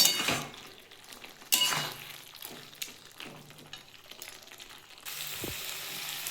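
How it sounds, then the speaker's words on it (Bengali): Cauliflower and potato with raw poppy seed paste being stirred in a pan, a soft sizzle with scraping and clinks of a utensil against the pan, fairly quiet and intermittent, with no voices. "ভালো করে আমি নেড়ে দিচ্ছি এটা একদম শুকনো শুকনো হবে"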